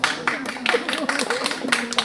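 Audience at a cultural gathering on wayang jemblung clapping to welcome a speaker, a brisk run of overlapping hand claps from a modest crowd, fairly close, with a voice talking and humming tones beneath.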